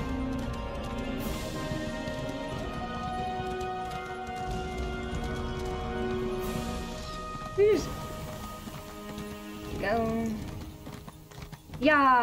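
Rhythmic clip-clop of horse hooves trotting in a video game over a steady musical score, with a couple of sudden louder whooshing effects near the end.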